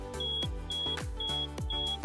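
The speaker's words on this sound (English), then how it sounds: "If a passenger goes overboard, the alarm fob will activate and notify the pilot" Repeated electronic beeping from a wireless man-overboard alarm fob and hub on a boat, a steady rhythm of short tonal beeps roughly twice per second, close and clear with no talk.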